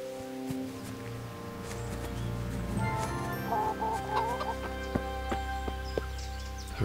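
Chickens cluck and chatter near a door in the medieval role-playing game Kingdom Come: Deliverance. A steady clucking goes on over a background drone with faint game music, and a few scattered sharp taps stand out.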